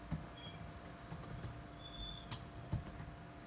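Someone types a short command on a computer keyboard in a Git Bash terminal for Terraform, a quiet close run of irregular key clicks with a couple of firmer taps, no talking.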